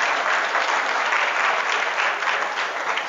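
An audience of students at a school religious talk claps loudly and steadily, dense applause filling the whole moment with no voices above it.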